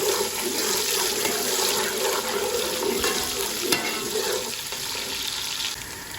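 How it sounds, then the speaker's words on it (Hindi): Sliced onions fry in ghee until golden brown for a chicken and pumpkin curry, making a loud, continuous, close-up sizzle with steady hissing and a brief stir partway through. "और प्याजों को अच्छी तरह से हम फ्राई करेंगे सुनहरा ब्राउन आने तक।"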